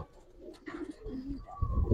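Pigeon cooing, a soft low throaty coo rising near the end, faint and close, with light background noise.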